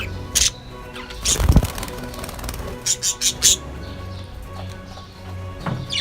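Budgerigars give a few short, bright chirps in scattered bursts, close by, over a faint background hum.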